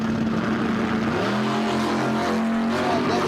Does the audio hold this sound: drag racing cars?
yes